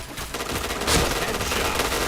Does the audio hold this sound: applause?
no